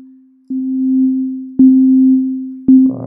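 A synth melody in Bitwig with reverb and distortion plays sustained low tones in a slow series of three notes, each attack sharp and then fading, ending in a grittier burst.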